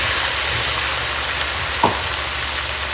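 Ground spice paste sizzles in a pan with onions, tomatoes, salt and turmeric for a mushroom jhal, giving a steady, close, dense frying hiss with one brief louder crackle partway through.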